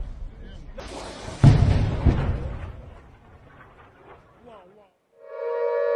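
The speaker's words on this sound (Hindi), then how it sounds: "ये विस्फोट इतना भयावह था कि लोग वहां पर चीखते चिल्लाते हुए नजर आते हैं" A sudden loud blast booms out after a second of rumbling noise, then rolls away into a long fading echo before a tone begins.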